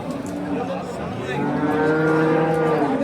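An ox at a livestock market in Kattakurgan, Samarkand region, weighing about 684 kilograms, gives a long, low, drawn-out moo that rises over a busy background of market noise and murmuring voices.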